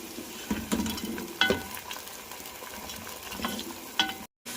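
Boneless chicken pieces for biryani frying in a pot, a steady close sizzle with intermittent stirring scrapes and clinks, no voices.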